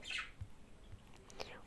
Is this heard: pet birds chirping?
yes